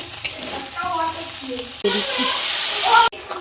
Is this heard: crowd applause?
no